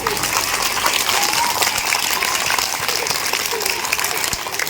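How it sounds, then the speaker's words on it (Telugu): Dense, steady clapping from an audience at a community food-distribution gathering, continuous and fairly loud throughout with no pauses. "ఒక్కసారి అందరూ చప్పట్లు పెట్టండి."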